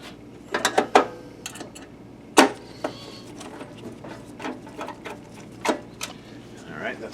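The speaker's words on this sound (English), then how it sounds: "Let's put these two screws in." Screws being driven by hand into a Digital Projection HIGHLite 330-3D-HC illumination module, with scattered close metallic clicks and small ratcheting taps, quiet and intermittent.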